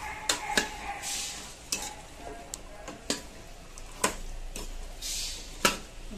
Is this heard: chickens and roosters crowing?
no